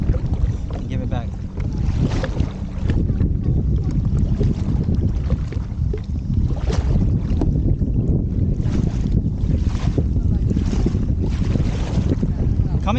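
Strong wind roars across the microphone while a family kayaks on open water against the wind and current, a loud continuous buffeting rush with the faint slosh of the water beneath it.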